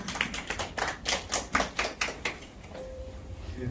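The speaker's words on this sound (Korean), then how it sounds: "힘찬 박수로 모시겠습니다" Audience applause welcoming a speaker at a labour rally on workplace fatality law, a short burst of dense clapping that peaks and fades within about two and a half seconds, leaving quiet room tone.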